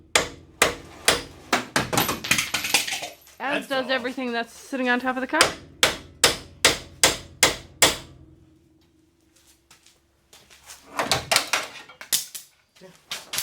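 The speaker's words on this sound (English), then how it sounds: "You just smack right there with a hammer a bunch of times" Sharp metallic hammer blows strike a ball joint on an old race car, fired in quick bursts of repeated hits with short pauses, close and loud, while people talk between and over the strikes.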